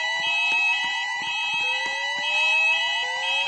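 Fire alarm sounding through a shopping mall: a steady, loud electronic tone with harmonic layers and a rapid pulsing chime repeating throughout, filling the space continuously.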